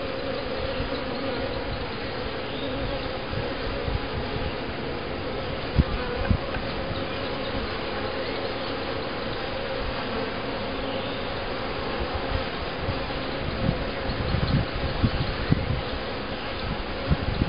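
Honeybees buzz steadily throughout a hive inspection on a chilly April day, a dense continuous drone close to the microphone with no talking.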